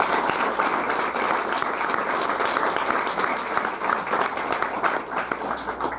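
Festival audience applauding a film director from Haiti, sustained dense clapping from a full room, loud and continuous throughout with no pauses.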